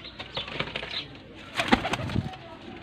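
Pigeons in a pen give short, soft coos mixed with a few quick bursts of wing flapping, close by and quiet in a brief stretch.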